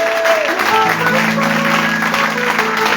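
Worshippers in a church service applaud and cheer, a steady, fairly loud crowd roar of clapping with tonal voices or instruments running through it.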